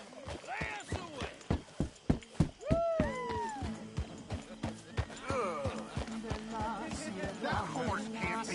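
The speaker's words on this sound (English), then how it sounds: "That horse can't be in here." Horse hooves clip-clop in a steady, fairly close rhythm in the video game Red Dead Redemption 2, mixed with people talking and whistle-like tones over a busy camp background.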